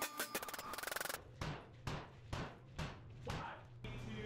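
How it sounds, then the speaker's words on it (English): A sledgehammer strikes a security glass panel during lab impact testing, landing six heavy, evenly spaced blows of about equal loudness, each with a sharp thud and a ringing decay, after a brief burst of rapid rattling. "Sequence 10 is 25 impacts with a sledgehammer."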